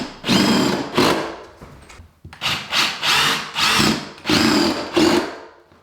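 A power drill whirs in a series of loud bursts, spinning up and stopping repeatedly as screws are driven into a toilet flange close by, with short pauses between.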